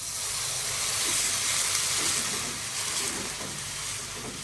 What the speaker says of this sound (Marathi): त्याच्यात थोडंसं पाणी घालायचं.